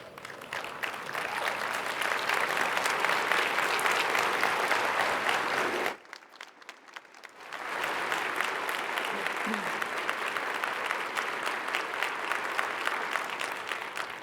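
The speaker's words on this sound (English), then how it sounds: "please stand and signify your commitment with your applause" Sustained applause from a large audience, loud and steady, breaking off briefly midway before resuming just as strongly.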